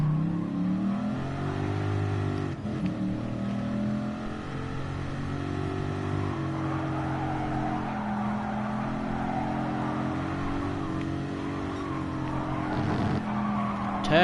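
Race car in Gran Turismo Sport understeering through a banked corner, its engine droning steadily while tires squeal and skid for several seconds, with a voice talking briefly over it.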